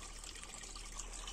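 Water flowing along an irrigation ditch at a student's home in Talas region, a steady close trickling and gurgling with no talk.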